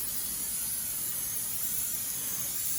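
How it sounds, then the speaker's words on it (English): Water steaming off the hot cast iron grate of a Charbroil infrared grill, a steady broad hiss that holds evenly throughout with no talk. "Now you can see it's starting to steam that water off a little bit."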